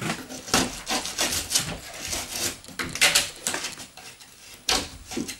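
A damaged drywall corner in a closet being cut out by hand, with rough scraping, rasping strokes in an uneven rhythm, close and fairly loud with no talking.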